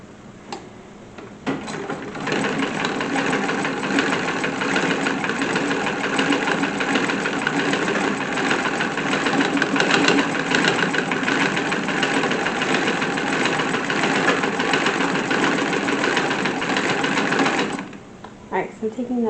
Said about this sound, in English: I have binding for the neckline that I cut, and I am going to stitch this on.